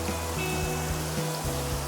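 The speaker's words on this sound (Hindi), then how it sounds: "यहाँ पे है मंदाकिनी फॉल।" Mandakini waterfall near Harsil and Gangotri sends up a constant broadband rush of falling water. The roar is steady and close, with a low hum running beneath it.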